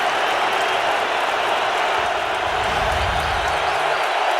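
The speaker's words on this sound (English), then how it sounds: "Now the crowd already rising as one on Chicago's first series, exhorting their defense to stop him, and Cutler will throw" Crowd noise at a 2009 NFL game between the Chicago Bears and Atlanta Falcons in Chicago's stadium: a dense, steady roar of fans rising as one, with no clear breaks.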